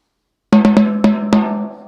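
A snare drum with its snares released, hanging loose off the bottom head, gives five resonant open hits in an uneven rhythm, ringing with a hollow, tom-like tone that sustains and fades between strokes, close and alone.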